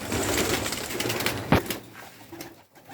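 Pigeons coo and take off from a loft, with a dense, fluttering rush at first that briefly peaks and then fades to quiet.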